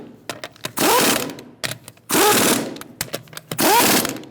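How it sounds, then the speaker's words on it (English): On a 2000–2007 Ford Taurus 3.0L V6, an impact or power tool with a 19mm socket tightens the wheel lug nuts. It gives three loud, sustained whirring, rattling bursts, separated by short clicks and clanks. "Using a 19mm socket, we're going to torque our wheels to 95 foot-pounds."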